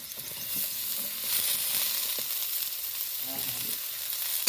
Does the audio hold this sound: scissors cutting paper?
no